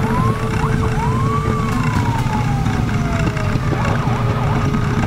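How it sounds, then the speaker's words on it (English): A vehicle siren at a dirt racing event wails, rising and falling steadily over a loud, constant engine rumble, close and continuous throughout. "Get on that siren."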